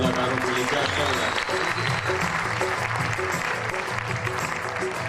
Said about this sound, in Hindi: एक बार जोरदार तालियां हमारे कलाकारों के लिए।